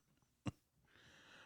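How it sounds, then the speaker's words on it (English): A single sharp cough bursts out close by from a person choking on a drink, followed by a faint breathy rasp. "coughing fit over here."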